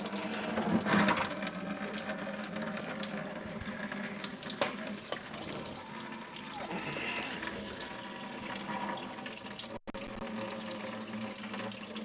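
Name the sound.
liquid draining from Nissan Xterra plastic drain plug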